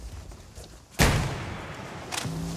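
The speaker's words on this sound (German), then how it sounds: "hier ist noch ein Schuss gefallen" A single gunshot at a house during a police hostage situation, one sharp loud crack about a second in with a decaying rumble, followed by a fainter thud, no talk over it.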